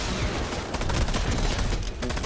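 Rapid pistol fire from Fortnite in a dense, loud string of overlapping shots that fills the moment, close and continuous with no pauses.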